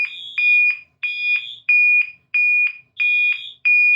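A Wheelock MT fire alarm horn set to code 3 sounds loud and close in sharp, steady blasts, three in a row, then a short pause, then the pattern repeats.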